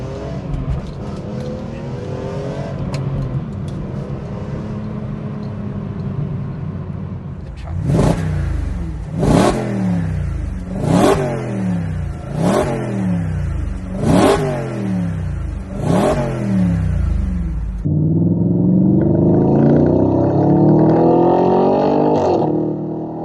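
A BMW M3 engine revs hard in a series of six sharp, evenly spaced blips, each rising and falling quickly. A steadier, louder engine drone follows the revs, and no voices are heard.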